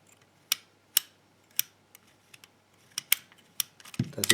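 Sharp mechanical clicks from a lever lock being turned, about a dozen distinct ticks in an uneven rhythm, close and fairly quiet, with a brief rustle of handling at the end.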